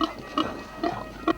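Pig on a farm piggery giving three short grunts, close and moderately loud, spaced evenly with quiet gaps between.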